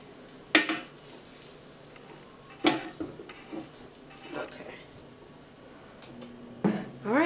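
Hot dogs flipped with tongs on a Ninja Foodi indoor grill, a few sharp metallic clacks of utensil against the grill plate spread across the clip, close and distinct over quiet background sizzle.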